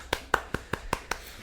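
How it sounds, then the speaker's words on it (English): Six sharp, evenly spaced hand claps from a single person, close and crisp, in a quiet podcast studio with no talking underneath. "Everyone give her a round of applause"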